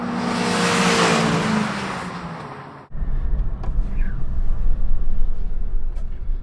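A Mark 4 VW Golf GTI drives on a track, first a loud broad engine and wind roar that cuts off abruptly, then a lower, rougher engine note that rises as the car accelerates.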